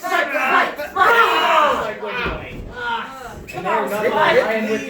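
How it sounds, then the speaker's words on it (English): A loud wrestling crowd roars and cheers in waves, with yelling voices swelling and fading over a few seconds. "Listen to the compassionate crowd."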